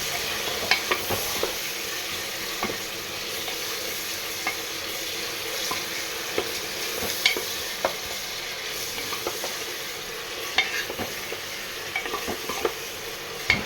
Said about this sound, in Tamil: இப்போ நல்லா வெங்காயம் பொன்னிறமாக வதங்கி வர்ற அளவுக்கு வெயிட் பண்ணுவோம்